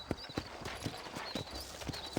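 Horse hooves clip-clopping along a dirt road in the Western video game Red Dead Redemption, a steady, even walking rhythm of crisp hoof strikes at close range with no talk over them.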